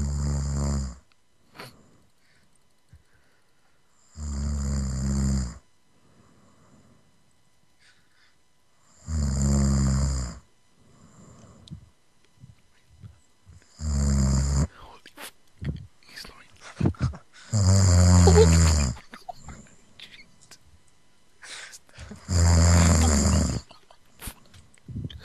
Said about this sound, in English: he's like snoring loud as fuck.